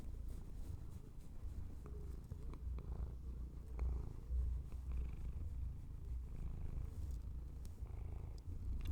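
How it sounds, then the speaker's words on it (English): A cat held close purrs steadily, a low continuous rumble near the microphone with no talking. "I wonder if I can get her purring on mic."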